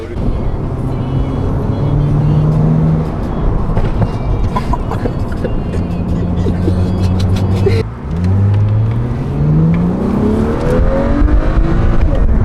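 A BMW E90 335i M Sport with its turbocharged engine revs hard several times from inside the car, rising and falling loudly, with a brief dip near the middle.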